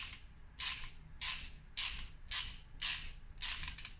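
A metal tap ratchets while re-cutting threads on a Volvo 850 during a restoration, making six evenly spaced rasping creaks, close and clear, with nobody talking.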